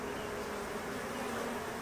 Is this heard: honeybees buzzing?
yes